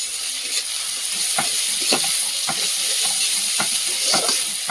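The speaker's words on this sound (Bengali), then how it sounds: "আদা রসুন বাটাটা দিয়ে দেবো," Ginger-garlic paste frying with browned onions in a hot wok, steady sizzling with scraping stir strokes cutting in every half second or so, a busy frying crackle throughout.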